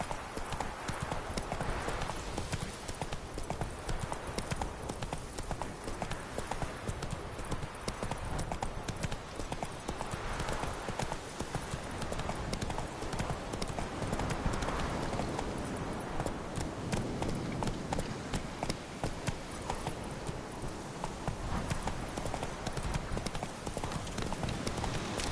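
The horse Roach trots across open ground in The Witcher 3, a steady rapid clip-clop of hooves running the whole time over a dense bed of ambient game sound, with faint voices now and then.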